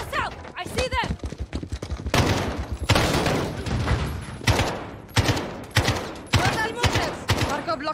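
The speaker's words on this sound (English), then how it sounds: "Now I have a machine gun." Machine gun fire rattles in repeated loud bursts during Modern Warfare 2 gameplay, mixed with other gunshots and thuds while voices talk over the action.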